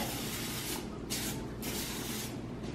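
Several short hissing bursts of coconut oil cooking spray onto tortillas, close up, with brief pauses between them.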